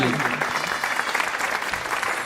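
Audience applause at a live Hindi stage show, dense and steady clapping from a large crowd that fills the whole stretch at high volume, with no voices heard over it.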